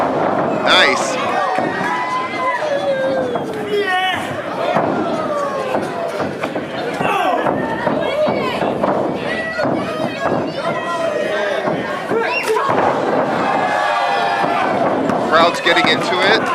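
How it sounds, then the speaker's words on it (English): A wrestling crowd at an IWE match between Vary Morales and David Ali cheers and roars continuously at steady volume, with shouting voices and a commentator talking over the noise throughout. "Crowd's getting into it."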